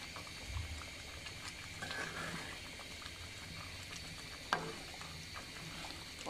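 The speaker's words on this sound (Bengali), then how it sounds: "অনেক ঘন হয়ে আসছে দেখতে পাচ্ছেন আমাদের হালিমটা, মাঝে মাঝে একটু নেড়ে দিচ্ছি।" Thick chicken haleem simmering in a pot, with soft, faint bubbling and popping throughout and an occasional light knock as it is stirred.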